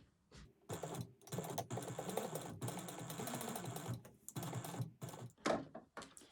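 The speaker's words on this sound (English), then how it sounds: "we're going to top stitch this at an 1/8 of an inch seam allowance" A sewing machine top stitches fabric at an eighth-inch seam allowance, running in several short, rapid bursts separated by brief pauses, close and clear with no talking.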